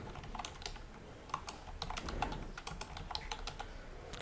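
Someone types a gift card name on a computer keyboard, a quick, irregular patter of close key clicks continuing throughout with no speech.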